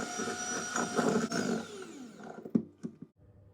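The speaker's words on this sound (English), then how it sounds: "we're going to beat that until it is really smooth." Room-temperature butter beaten smooth with an electric mixer, a steady whirring drone with a few knocks of the beaters against the bowl near the end.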